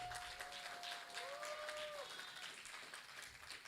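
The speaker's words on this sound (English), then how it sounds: "And give the candidates again a very strong round of applause." An audience at a public discussion with the candidates for Roseau North applauds in a continuous, even wash of many hands, fairly soft and sustained across the whole stretch without any voice above it.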